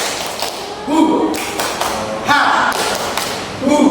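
Group of adults doing a rhythmic clapping chant, with bursts of clapping and voices near 1, 2.4 and 3.8 seconds, mixed with loud talk and shouting throughout.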